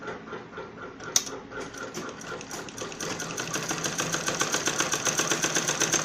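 A sewing machine stitches a curved seam on a kurti, its rapid even needle clatter starting after a sharp click and gradually growing louder and denser, running close and alone without talk.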